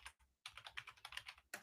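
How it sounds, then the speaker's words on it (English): Someone types quickly on a computer keyboard during a live show, with a soft, rapid run of key clicks after a brief pause. Heard faint and close, without any voices. "just quickly typing in the background."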